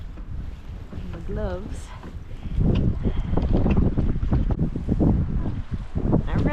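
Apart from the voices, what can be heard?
wind on the water during kayak fishing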